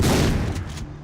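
Gunfire from a weapon in the video game Far Cry 3, a single loud, close burst with broadband crack and booming low end that fades over about a second, with no talk over it.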